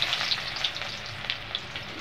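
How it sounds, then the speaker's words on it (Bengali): Chopped onions sizzling in hot oil in a pan for a Bengali taro-leaf and fish-head dish, a steady crackling fry with sharper spits and pops, close and alone. "পেঁয়াজটা আমি ভালো করে ভেজে নেই"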